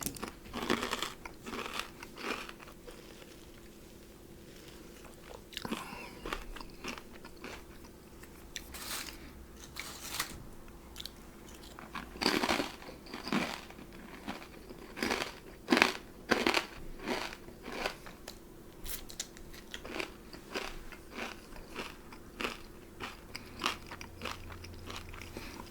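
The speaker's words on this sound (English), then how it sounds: "These are very spicy chips." Very spicy crunchy chips are bitten and chewed close up, giving repeated sharp crunches and crackling chews at an uneven pace over a quiet background. No voices are heard.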